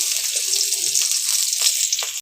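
Chopped onion frying in hot oil in a wok gives a steady, close sizzle throughout, with occasional crackling bursts.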